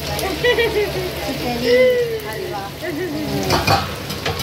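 Bangda mackerel sizzles and spatters steadily as it fries in a pan, a continuous crackling hiss running under voices talking throughout.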